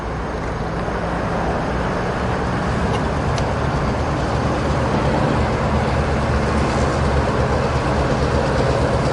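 An East Penn Railroad freight train passes westbound on the Harrisburg line, making a loud, steady, close rumble and roar that stays at one level throughout without a break.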